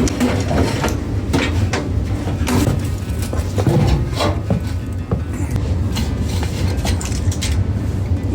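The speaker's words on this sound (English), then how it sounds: "The whole thing slides right out." Furnace blower assembly sliding out of its housing, a steady run of scraping, knocking and rattling metal with scattered clunks, close and loud, with some talk underneath.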